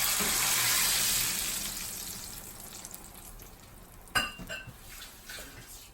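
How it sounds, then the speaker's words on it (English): Beans poured into a hot frying pan for Mexican refried beans, a loud hiss of sizzling that gradually fades, followed by a few sharp clinks of a utensil against the pan. "I'm going to go ahead and pour in the beans"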